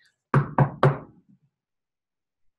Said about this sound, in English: So knock at the door.